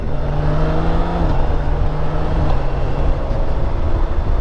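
A BMW K1600GT motorcycle riding along, its engine droning loud and steady with a tone that steps down as gears shift, alone without talk.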